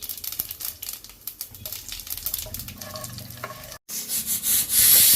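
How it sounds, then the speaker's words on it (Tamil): Mustard seeds, cinnamon, cloves, cardamom and fennel crackle and pop in hot sesame oil for a potato kurma, a busy spattering that swells into a louder, hissing sizzle toward the end. "இப்போ நல்லெண்ணெய் ஊற்றிக்கிறேன். கடுகு, இப்போ பட்டை, கிராம்பு, ஏலக்காய், அதோட சோம்பு போடுறோம்"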